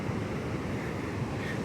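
Pacific Ocean surf washing up a beach in Rosa, continuous broadband roar of waves with wind noise, steady and fairly close, no voices.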